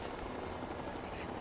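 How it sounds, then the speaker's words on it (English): A steady, droning helicopter rotor wash in the video game Fallout 3, continuous and moderately loud with broadband noise, no voices over it. "I hope that's not an enemy helicopter."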